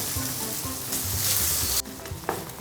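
Bulgogi beef for a pasta dish hits a hot frying pan with a broad, steady sizzle, briefly dipping then continuing with small crackles as the meat is spread out.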